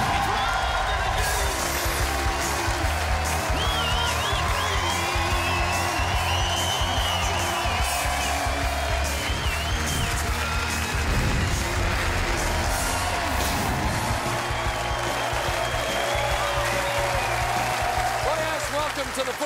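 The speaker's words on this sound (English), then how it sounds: "Big crowd, nice and pumped up in the Docklands area tonight." A pumped-up studio crowd at the Footy Show in the Docklands cheers, whoops and claps continuously, loud and lively, with voices talking over it.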